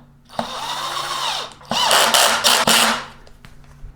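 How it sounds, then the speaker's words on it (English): A power drill runs on the wheel nuts of a Veteran Patton-S or Lynx-S electric unicycle during a tyre change, sounding as two close, loud whirring bursts with a rising and falling pitch, each cut off sharply. "I'll begin with my drill and finish them by hand."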